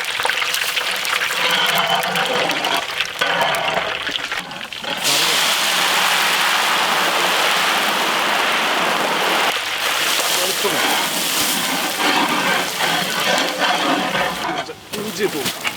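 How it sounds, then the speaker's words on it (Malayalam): Mustard and fenugreek seeds sizzle in sesame oil for a large village-style batch of chicken pickle, a loud, continuous crackling hiss with brief dips, with someone talking at times. "ശുദ്ധമായ നല്ലെണ്ണ കുറച്ച് കടുക് ഇട്ട് കൊടുക്കാം,"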